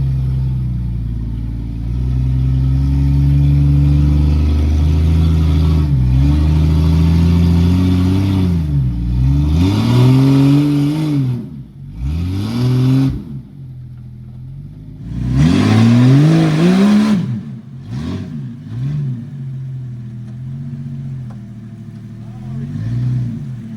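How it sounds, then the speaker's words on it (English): Jeep XJ with a manual transmission off-road on rocks at Black Mountain Offroad Park, its engine droning and revving in repeated rising and falling surges as the tires spin, close and loud, with people talking over it. "unless you want to sit there and try to spin your tires, that's what's messing you up"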